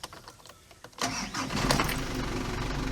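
A Mitsubishi Canter truck's engine cranks and starts from cold, quiet at first, then catching abruptly into a loud, steady diesel-type idle that builds slightly and holds.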